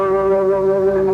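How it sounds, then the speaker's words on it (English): A single sustained, mellow electric guitar note played with the pick held straight rings out steadily, warm and clean, close up with no other sounds. "you can also use them straight, in which case they make quite a mellow sound"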